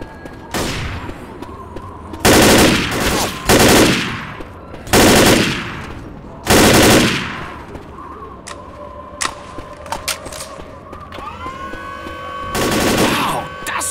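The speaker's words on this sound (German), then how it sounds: "Wow, das nenne ich ein Maschinengewehr!" Machine gun fire in the Left 4 Dead game, several loud sustained bursts of rapid shots separated by short pauses, close and dominant, with game sounds between bursts.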